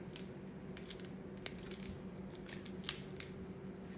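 A knife slices down the middle of a crab's shell, giving a few faint, crisp cracks and snips close by in a quiet kitchen.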